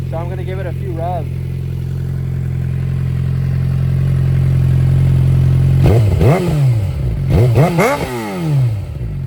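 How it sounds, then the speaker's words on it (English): Loud, close idle from a 2019 Suzuki GSX-R600 with an M4 slip-on exhaust, already warm, broken by several sharp throttle blips that rise and fall quickly in the second half. "The bike's already warmed up, so I'm gonna give it a few revs."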